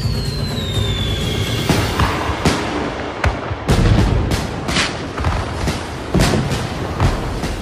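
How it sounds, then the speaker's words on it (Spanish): Fireworks in an Overwatch Lunar New Year trailer crack and boom in a dense barrage, with a whistling rocket at the start and repeated sharp bursts over a rumbling backdrop. "¿Quién quiere fuegos artificiales?"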